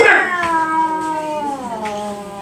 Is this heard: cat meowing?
yes